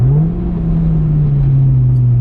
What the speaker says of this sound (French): Petit talon pointe aussi.